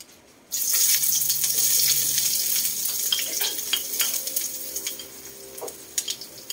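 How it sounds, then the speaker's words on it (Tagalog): Chopped onions hit a hot, smoking frying pan in a home kitchen and sizzle loudly and steadily, with scattered clicks and pops from stirring, the frying settling slightly lower toward the end. "Una, ang igigisa ko ay sibuyas."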